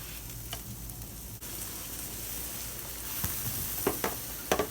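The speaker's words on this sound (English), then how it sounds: "So this is a nice sizzle on them right now." A low, steady frying sizzle from black beans and chicken on a Camp Chef flat top griddle, fairly quiet, with a few clicks and spatula taps near the end.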